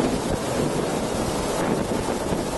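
Hurricane Charley's winds roar without pause through a corridor in Punta Gorda, Florida, driving debris and water, loud and close, with heavy wind buffeting on the microphone.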